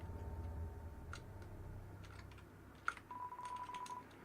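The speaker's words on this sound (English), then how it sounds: "Press it? Yes, you hear clicking sound." A switch in the Undertale video game gives one sharp click, heard alone over a low steady hum, then a thin electronic tone rings on briefly.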